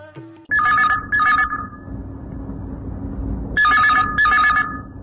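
A telephone rings on a Chhattisgarhi radio phone-in song show, sounding as two bright, warbling double bursts separated by a pause, loud and close over a faint hum.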